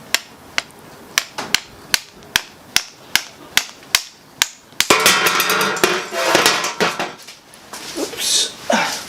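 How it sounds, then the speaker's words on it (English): A hammer taps sharply about a dozen times in an even rhythm on a BMW F30 windscreen wiper arm cap, then a rattling burst of louder, clattering strikes and scraping. "just use the hammer, just give it a little tap."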